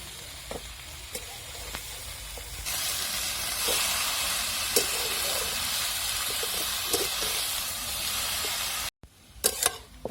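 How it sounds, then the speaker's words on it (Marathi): Greens (fodder-type leafy vegetable) sautéing in a pan: a broad steady sizzle and hiss that swells after a quiet start, with occasional utensil clicks and a brief cut near the end. "भाजी मस्त परतवली बघा आपण"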